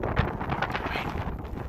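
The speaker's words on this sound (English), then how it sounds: "It's not so much the amount of snow that's coming down, but it's the goddamn wind." Strong wind buffeting during a Buffalo, New York blizzard, a steady broadband roar with gusting surges, close and fairly loud across the whole stretch.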